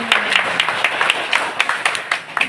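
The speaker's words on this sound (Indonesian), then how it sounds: "Tepuk tangan Pak Lurah." A group of neighbourhood leaders applauds at a village meeting in Gunungkidul, a loose scattering of claps from a modest crowd, fairly close and irregular.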